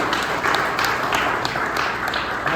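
An indoor crowd at a football coaches association media day applauds a sponsor, dense steady clapping with scattered sharper claps, fairly close and sustained for the whole stretch.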